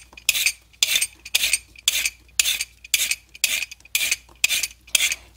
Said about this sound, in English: I'm going to be just peeling my carrots